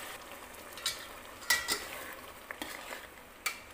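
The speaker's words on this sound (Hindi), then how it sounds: "इन सबको हमें तेज आंच पे भूंजना है।" Masala with yogurt and tomato puree stir-fried over high heat for chicken biryani, giving a soft, steady sizzle broken by a few sharp scrapes and clinks of a spoon against the pan.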